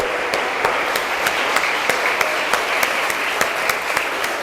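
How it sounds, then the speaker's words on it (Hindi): Audience applause at a Defence of Pakistan day event, dense steady clapping from a large crowd with a few sharper individual claps standing out, sustained throughout. "और सबसे पहले मैं आपके लिए ताली बजाता हूं।"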